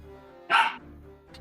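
Dog barking in the background: a single short bark, moderately loud and slightly distant, stands out over a steady low hum from game music.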